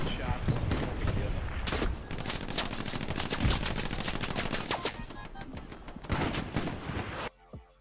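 Dense automatic gunfire from the World War II video game Hell Let Loose, rapid loud bursts of shots, with a voice talking over the gameplay.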